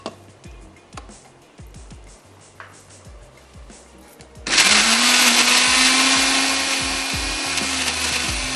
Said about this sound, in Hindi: सिंपल सा आपने ले लेना है ब्लेंडर, और उसमें ऐड कर देंगे ये रफली हमने चॉप कर दिए हैं टमाटर।